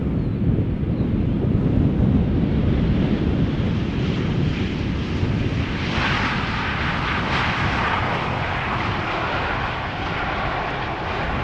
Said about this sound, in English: Now passing us by in a moment is KLM Flight 1598 arriving from Rome.